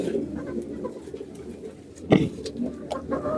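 Domestic pigeons kept in pairs, including gola pigeons, cooing softly and steadily at close range with a louder burst midway, alongside other faint bird calls and no speech.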